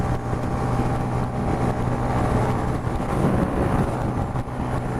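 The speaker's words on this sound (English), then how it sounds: "there's a car wants to actually overtake you." Honda Grom motorcycle engine droning steadily on a Welsh dual carriageway at around 60 mph, with wind noise and a car approaching to overtake, a loud, continuous close roar.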